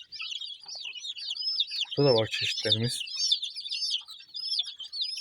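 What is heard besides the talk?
village chicks chirping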